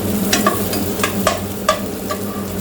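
Onions frying in oil toward golden brown for methi chicken, a loud close sizzle with a handful of rhythmic spatula strokes against the pan, no speech.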